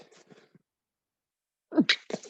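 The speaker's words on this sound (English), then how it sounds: "excuse me, I sneezed" A single sharp human sneeze in a quiet room, preceded by soft breathy sounds and a brief pause, then a loud burst close to the microphone.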